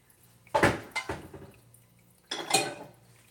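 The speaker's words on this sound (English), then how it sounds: "Gonna grab a couple of small skillets." Small metal skillets grabbed and knocked together in a home kitchen, with a few sharp close clanks in two bursts separated by quiet.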